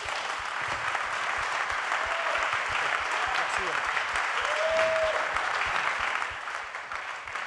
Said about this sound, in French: Applaudissements nourris pour Niels Joyeux et André Hubert-Roussel.